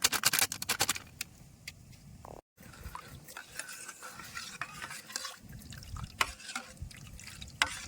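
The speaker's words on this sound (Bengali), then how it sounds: "দুধটা বেশ ভালো করে গুলায় নিচ্ছি" Powdered milk being stirred into warm sugar water in a bowl for palm-fruit malpua: close, continuous swishing and scraping with watery sloshes and a few sharp clinks, broken by a brief gap.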